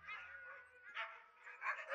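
Alaskan husky sled dogs in the snow give faint yips, whimpers and short barks at a distance, a few quick excited calls over quiet background.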